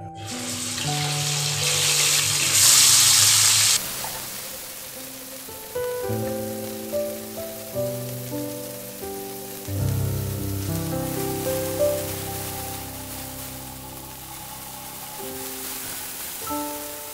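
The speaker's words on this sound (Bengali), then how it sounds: "প্রথমে আমি মাছটা ভেজে নেব।" Bele fish frying in hot oil in a pan, a loud crackling sizzle at the start that settles into a steady spitting fry, with music playing throughout.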